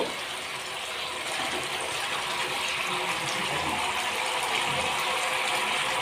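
Chutney bubbling in an open, uncovered pan, a steady close bubbling and spattering hiss with a faint rattling texture, running evenly throughout with no talking.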